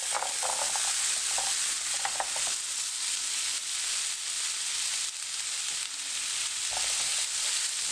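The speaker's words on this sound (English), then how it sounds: "And give them a stir" Brussels sprouts with bacon, maple, chestnut and cranberries sizzle steadily in a pan while being stirred, producing a loud, even hiss with a few light utensil clinks early on.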